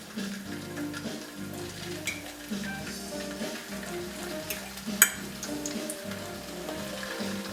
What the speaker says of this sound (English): You don't want them to fry too fast, just a steady medium frying.